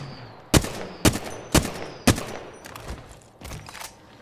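Gunfire in a ranked video game match, four sharp evenly spaced shots followed by several weaker, scattered bursts, loud and close with no speech.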